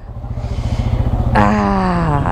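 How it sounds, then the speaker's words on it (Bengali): A low-cc Yamaha motorcycle runs on a highway, its engine pulsing in a fast, regular chug that is close and loud. About halfway through, a sustained tonal whine or horn-like sound rises over it. "ইয়ামাহার যে বাইকটা আমি রাইড করতেছিলাম"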